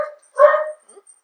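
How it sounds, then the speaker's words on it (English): Puppies yap in short harmonic bursts at a lakeside vacation spot, one loud close bark at the start, a longer yelping burst in the middle, then faint whimpers trailing off, with no talking. "Puppies. Apologize for the chaos."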